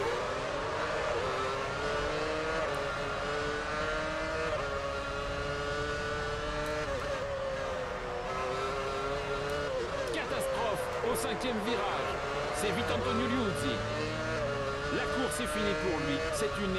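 Formula 1 race cars in the video game F1 Championship Edition on PS3, several engines whining and shifting pitch together in a close pack, steady and loud, with a voice talking over them.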